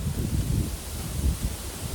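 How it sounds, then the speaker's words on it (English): Strong wind blows outdoors and buffets the microphone as a steady low roar, with rustling gusts that swell and ease over a couple of seconds. "it is really windy out right now"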